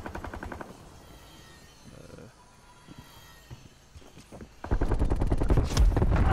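Sentry turrets firing in a video game: rapid automatic bursts, a short rattle at the start, scattered pops in the middle, then a loud sustained volley over the final seconds.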